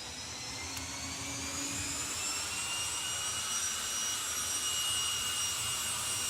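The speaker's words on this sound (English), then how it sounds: "Especially that first pop of the afterburner." A jet dragster's engine roars with its afterburner at a drag race, a sustained loud, rushing whine with rising tonal shrieks, steady throughout without talk.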